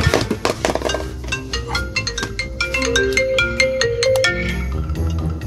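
A phone ringtone plays before a call, a bright melodic jingle of quick repeated notes sounding clearly and alone for several seconds.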